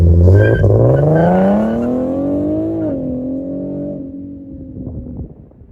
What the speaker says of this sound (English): the Speak Ultra Studios custom catback system is still the best sounding catback system for the VQ37